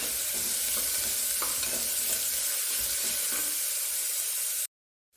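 Garlic and ginger sauté with onion in a hot oiled pan, giving a loud, continuous sizzle with occasional stirring scrapes before cutting off abruptly near the end.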